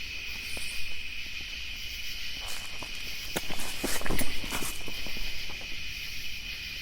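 Footsteps crunch and scuff on outdoor ground at night, a few irregular steps drawing close over a steady chorus of crickets and insects, with no talking.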